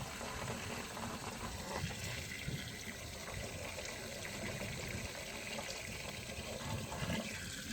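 Liquid pours steadily into a container while hawthorn vinegar is being made, a continuous rushing, bubbling fill that stays at an even, moderate level throughout.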